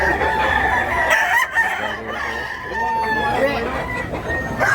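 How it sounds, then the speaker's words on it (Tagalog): A Japanese rooster crows loudly and repeatedly nearby, with clucking fowl and background voices mixed in. "Kung manok niya, bulstag Japon ni siya,"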